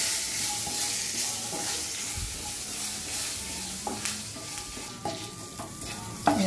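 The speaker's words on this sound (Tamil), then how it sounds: "நல்லா வாசனை வர அளவுக்கு வறுத்தாச்சு." Curry leaves, dried chillies and urad dal roasting in a pan, with a soft steady sizzle and occasional scraping, stirring knocks throughout, fairly quiet and close, with no voices.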